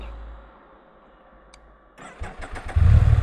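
A Can-Am Spyder starts with a quiet electrical hum and click, then a short cranking burst before the engine catches and roars to a loud, steady idle close by.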